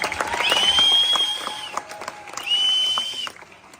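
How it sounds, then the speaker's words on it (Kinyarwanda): Wedding guests clap and cheer together in a lively burst, loud and close, while a high whistle-like tone rises twice and music or voices mix in; the applause swells early, dips, surges again, then fades near the end. "mukomere amashyi cyane"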